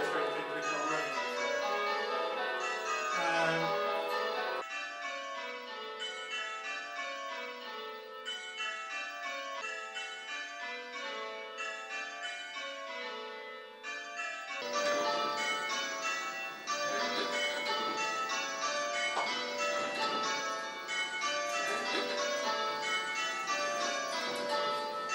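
Computer-simulated church tower bells ring in quick cascading change-ringing rounds, bright overlapping peals falling in steady patterns, with a short pause and a fuller restart partway through.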